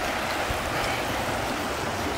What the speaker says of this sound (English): There's a river right here.